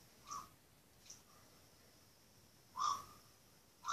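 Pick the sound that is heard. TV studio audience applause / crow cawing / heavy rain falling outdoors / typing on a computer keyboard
crow cawing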